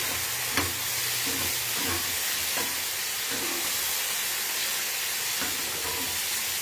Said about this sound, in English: We'll put in about 1/4 cup. And that will help deglaze the pan.